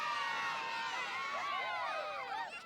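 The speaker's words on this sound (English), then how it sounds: "The crowd roared with cheers and laughter." An excited crowd at an outdoor contest roars with cheers and overlapping high-pitched shouts and laughter, a dense continuous swell heard at moderate distance for a few seconds.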